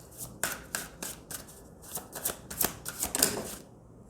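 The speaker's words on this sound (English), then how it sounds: "Let's just shuffle again." A deck of cards being shuffled in several quick riffling bursts, crisp and close, with short pauses between passes and no talking.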